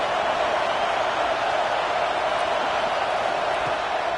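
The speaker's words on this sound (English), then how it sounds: "The Buckeye crowd alive on third down." A dense, steady roar from the Ohio State Buckeyes home crowd fills a college football stadium on third down, loud and unbroken throughout.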